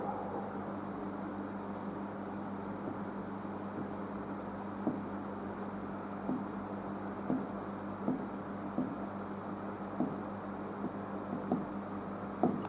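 Pen scratching across a board or paper while a chemistry reaction is written out, soft intermittent strokes and taps over a quiet room hum, faint and steady, with no voice over it.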